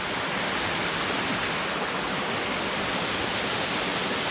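Ngao Waterfall in Ranong pours in a dense, even roar of falling water, a steady broadband rush that holds unchanged throughout with no voices.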